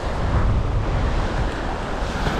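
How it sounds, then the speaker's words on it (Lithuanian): Strong wind blows across an open sea shore beside a shipping channel, a loud continuous roar buffeting the microphone, with surf underneath and no voices. "Bet atviram krantė iš vis labai vėjuota"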